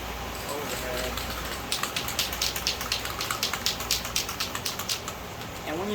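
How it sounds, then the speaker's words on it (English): Rain beginning to fall outdoors, with steady patter building into a run of distinct drops hitting a surface, fairly close, over a constant wash of background noise while someone works on a 2021 Yamaha YFZ450 intake under an overhead cover. "It's starting to rain over here"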